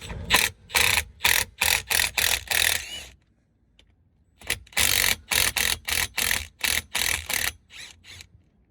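Socket wrench ratcheting on the 14mm differential fill plug of a BMW E46 330d, loud close bursts of rapid clicking in two runs separated by a brief pause, no talk.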